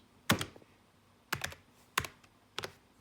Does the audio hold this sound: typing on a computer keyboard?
yes